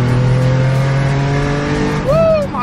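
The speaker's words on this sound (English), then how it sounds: "So we're gonna do a high boost pull." A high-boost pull in a modified street car in California, the engine roaring loud and steady close to the microphone with a rising tone near the end, while voices talk over it.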